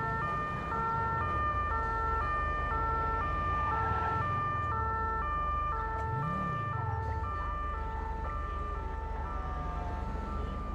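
Wailing ambulance siren in the video game GTA 5, a loud continuous two-tone electronic call alternating steadily for several seconds with a low engine rumble underneath and no talking.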